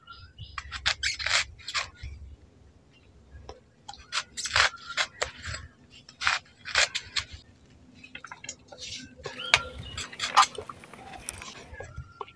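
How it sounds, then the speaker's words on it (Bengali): Crisp knife strokes slicing peeled teasel gourd (kakrol) into thin long strips on a board, a rhythmic run of short taps in clusters with brief pauses, close and fairly quiet. "এবার সরু সরু লম্বা লম্বা করে কেটে নিচ্ছি"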